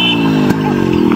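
A Yamaha RX motorcycle engine runs at a steady idle close by, its continuous rumble under people talking.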